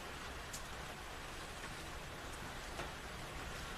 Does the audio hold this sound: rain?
yes